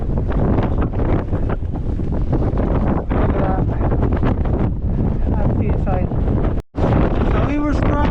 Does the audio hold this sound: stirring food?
no